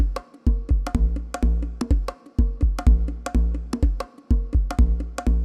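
A punchy synth line built with the Kick 2 plugin plays a repeating rhythmic pattern of short, resonant pitched hits through a low-pass filter with heavy resonance, loud and alone.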